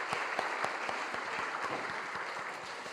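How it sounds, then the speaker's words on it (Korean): A church congregation at a Friday prayer meeting claps to welcome the pastor's wife, with steady applause and sharp individual claps standing out close by. "잠깐 박수로 환영하시겠습니다"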